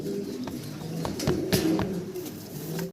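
Several fancy pigeons coo nearby in low, soft repeated calls, with a few sharper clicks and rustles mixed in.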